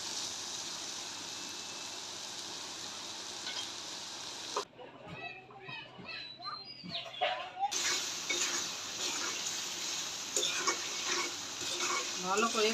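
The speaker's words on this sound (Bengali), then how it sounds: "ভালো করে মাংসটা কষিয়ে নিব।" Chicken meat being sautéed in a pan, a steady bright sizzle that drops out briefly while a voice talks, then returns just as strong, close and continuous.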